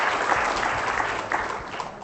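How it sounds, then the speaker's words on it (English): A full room applauds the Commissioner for Tourism at the opening ceremony of a UNWTO forum in Hong Kong, a thick, sustained round of clapping holding steady throughout. "Please stand, give her a round of applause."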